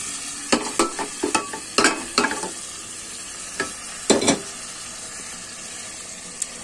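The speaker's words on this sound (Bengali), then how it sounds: "এবার এটার মধ্যে মাংসটা ভালো করে নেড়ে চেড়ে আর কিছুক্ষণ" Beef from a pressure cooker being stirred in a pan with a metal spoon, giving a close run of sharp scraping strokes over a steady background hiss of cooking.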